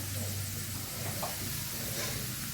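Garlic frying in a pan for a dal tempering, a loud, dense, continuous sizzle and hiss close up, with faint stirring underneath.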